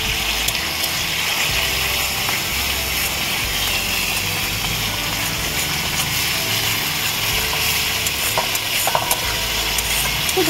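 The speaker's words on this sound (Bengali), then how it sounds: "খুব ভালো করে কষিয়ে নিতে হবে যতক্ষণ মশলা থেকে তেল ছাড়ছে।" Ground coriander, cumin, Kashmiri chilli and turmeric sauté in hot oil for katla fish kalia, giving a loud, continuous close sizzle with faint stirring scrapes throughout and no voices.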